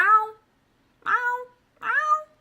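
A human voice imitates a cat, giving three drawn-out meows with pauses between them, clear and close against silence.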